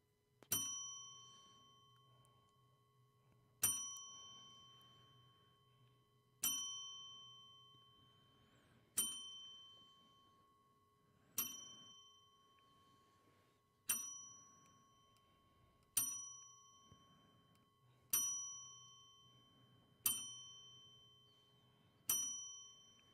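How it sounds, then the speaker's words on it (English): A handheld bell rung as a ten-bell salute in a podcast studio, each clear metallic strike ringing out and decaying before the next, evenly paced at first and then coming slightly quicker, with no talking over it. "Do we do our own little 10-bell salute?"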